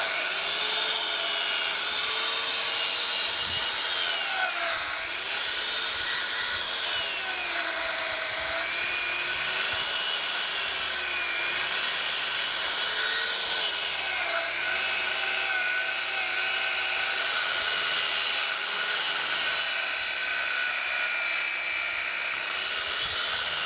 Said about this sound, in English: So is that your plunge saw?